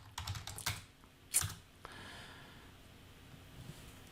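A few fast bursts of typing on a computer keyboard, close and clear, followed by a louder clack and then quiet breathing.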